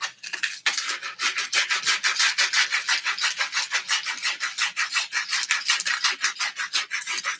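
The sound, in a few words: sanding a wooden wand with sandpaper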